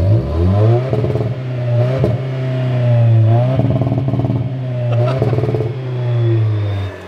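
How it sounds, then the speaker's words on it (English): 2024 Toyota Tacoma 2.4 liter inline four-cylinder turbo engine revving at close range, a loud steady idle rising through three throttle blips that climb and fall back, with faint clatter and no talk. "let me hear that four-cylinder turbo"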